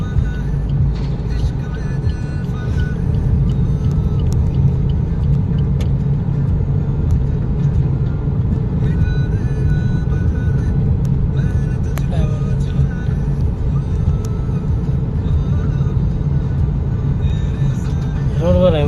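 A car driving and overtaking on a road during a driving lesson, steady engine and road rumble from inside the cabin, with people talking over it throughout.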